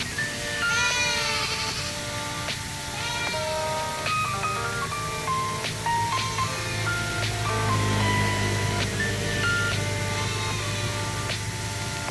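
Several goats bleat in repeated wavering cries over a busy outdoor background, the calls overlapping and fairly close.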